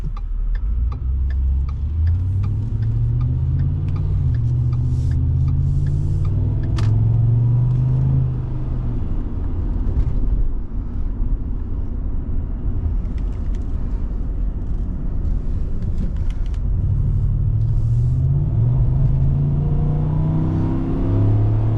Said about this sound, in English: Might have heard there, she's got an occasional misfire